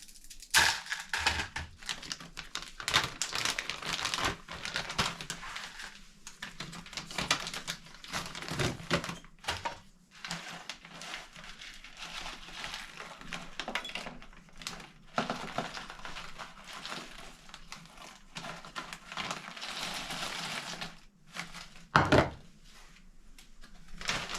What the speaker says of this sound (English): You can always break down the noodles a little bit because of course they are very bulky.